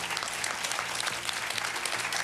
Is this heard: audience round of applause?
yes